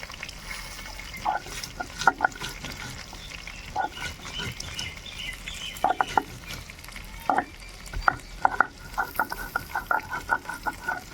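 Green banana pieces fry in a pan with a low, steady sizzle, broken by clinks and scrapes of stirring, fairly quiet and close.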